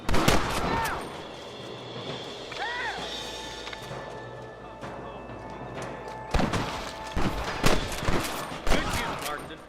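Gunfight in the Western video game Red Dead Redemption, with bursts of rapid gunshots and cracks at the start, a quieter stretch with a shouted voice, then dense repeated shots toward the end.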